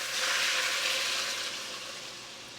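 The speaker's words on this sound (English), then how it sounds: "Time to add some water." Steady broadband rushing of about 8 cups of water being poured into a soup pot, close and continuous, gradually easing off.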